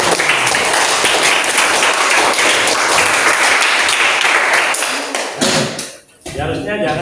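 Classroom applause erupts, a dense, steady patter of many hands clapping for several seconds before trailing off, followed by a voice speaking.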